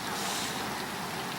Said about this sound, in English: you hear some sizzling, that's the pond fountain over there